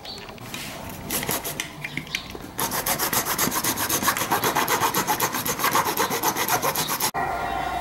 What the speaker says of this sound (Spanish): Vamos a cortarlo acá con esta sierra. Con esta sierra de cortar fierro.